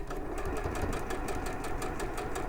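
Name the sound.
sewing machine running smoothly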